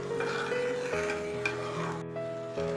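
Spoon stirring cherupayar payasam in a pot right after the first coconut milk goes in, a continuous scraping and swishing with faint bubbling, close and steady with no talk.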